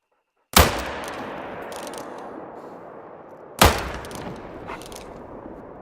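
Two loud, close gunshot blasts in a video game, each a sharp crack that trails off into a long decaying rumble, roughly three seconds apart, with faint clatter after each.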